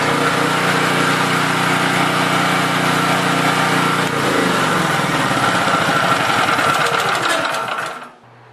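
A small generator engine runs steadily and loudly after a repair, its pitch shifting partway through before it winds down and falls quiet near the end.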